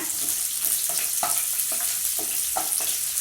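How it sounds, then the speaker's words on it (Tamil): Chopped large onion and cashews fry in oil for carrot rava upma. The steady hiss of hot oil is broken by soft, evenly spaced stirring scrapes. "அடுத்து வந்து கட் பண்ணி வச்சுருக்க பெரிய வெங்காயம் போட்டுக்கோங்க. இது கூடவே எண்ணெயில் இந்த சைடு முந்திரி போட்டுக்கோங்க."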